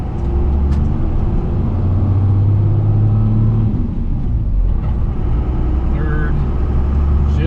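A Cummins diesel barn-find truck pulls away in second gear, its low engine drone and gear whine rising under a man's close speech, with some mechanical rattles as it gets moving.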